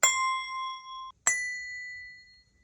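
Two Montessori grading bells are struck one after another, each a clear metallic ding with a long ringing tone, the first cut short just before the second strike, heard alone without speech.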